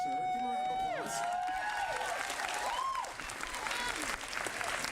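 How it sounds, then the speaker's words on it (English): Audience applause with cheers and whoops rising over a continuous crowd clapping, voices calling out loudly on top throughout. "Give a round of applause"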